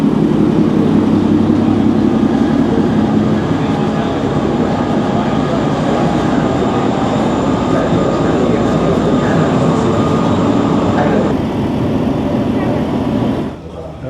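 Train running through Peru's Sacred Valley toward Machu Picchu, a loud, steady rumble and rattle from inside the carriage that holds throughout before briefly easing at the end.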